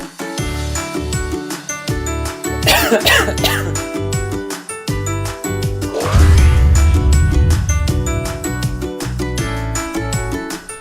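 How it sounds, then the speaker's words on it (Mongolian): Several people cough repeatedly in sharp, clustered bursts, some harsh and throaty, with throat clearing mixed in, sounding close and loud over background music. "энэ хүмүүс ингэж их ханиалгаж байж яагаад маск зөхгүй байна?"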